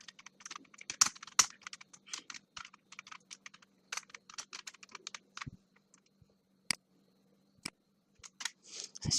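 Someone types a search term into a computer search bar on a keyboard, quick clusters of crisp close key clicks with short pauses between bursts and a final run of taps, quiet room, no speech.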